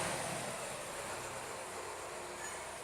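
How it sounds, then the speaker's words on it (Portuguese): A truck passing by on a city street, a loud, steady broadband roar of heavy engine and tire noise filling the whole stretch close to the microphone. "Vai passar um caminhão."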